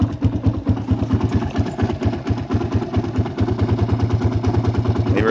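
A dirt bike engine idles up close after sitting unused for about seven months, a loud, rapid, evenly pulsing thump with a slightly uneven, lumpy character throughout.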